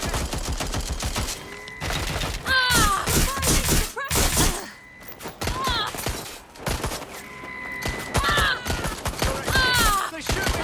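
Gunfire in the video game Watch Dogs: Legion during a police chase, with dense bursts of automatic shots and impacts layered over game music and engine noise, loud and close.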